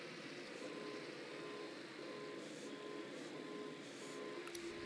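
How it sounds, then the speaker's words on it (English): An alarm in Ghost Recon Wildlands beeps steadily as a thin, repeating electronic tone. It sits over a constant mechanical hum and stays fairly quiet and even throughout. "They got alarms rigged up."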